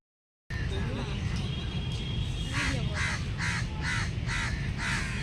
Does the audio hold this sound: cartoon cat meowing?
no